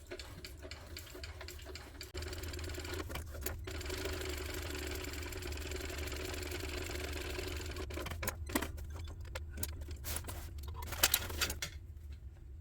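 A sewing machine stitches a tote bag in a fast, even mechanical whir with rapid ticking, stopping and starting with clicks and handling noise near the end.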